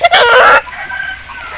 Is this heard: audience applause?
no